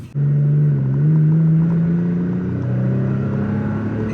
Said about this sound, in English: That is the TRD Pro catback exhaust system.